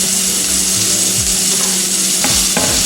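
A burger fries in a frying pan with a dense, steady sizzle and a few scraping knocks of a utensil, heard alone without speech.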